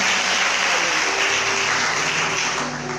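A church congregation claps for the word of the Lord at a Sunday service, a loud, dense, sustained round of applause from many hands that holds steady and eases slightly at the end.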